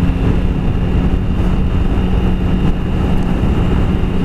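A Triumph Sprint ST 1050 motorcycle on its stock exhaust pulls away, giving a loud, steady engine drone mixed with rushing wind noise that holds evenly throughout, with no talking.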